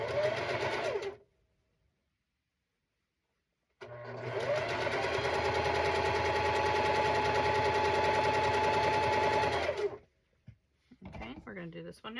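A sewing machine stitches a cat quilt in two runs, a short burst then a long steady whirring stretch of about six seconds, with a brief pause between and quiet movement after.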